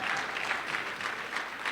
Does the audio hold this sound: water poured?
no